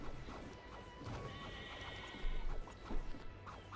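A horse whinnies in the Overdungeon card game, a sharp neigh over a busy game-sound bed with a couple of heavier thumps near the end.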